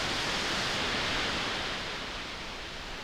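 Steady hiss of mostly pink noise blended with some white noise from a Behringer utility module in a modular synth patch, broadband and continuous at an even level, easing slightly toward the end with no voices.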